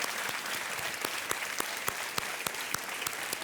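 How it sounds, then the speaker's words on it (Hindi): Studio audience on the Hindi quiz show Kaun Banega Crorepati claps for a woman contestant, an even sustained applause with occasional sharper claps standing out, without talk over it. "देवियों सज्जनों, एक बार फिर तालियों के साथ उनका अभिनंदन।"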